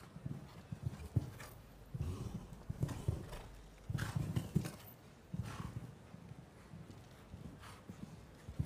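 A show jumping horse canters around an arena course at an international competition, its hooves thudding in a steady, soft rhythm against a quiet background murmur.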